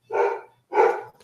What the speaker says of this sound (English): my big black dog's going crazy